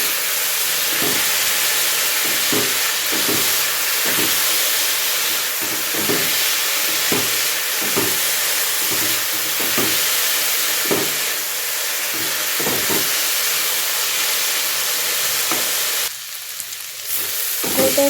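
Food fries in a pan with onion and salt, a steady, fairly loud sizzling hiss that goes on throughout, with soft rhythmic stirring scrapes beneath it.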